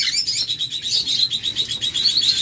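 Red-eyed opaline lovebirds chirp in a steady, rapid stream of high, bright tweets, close and continuous with no talking.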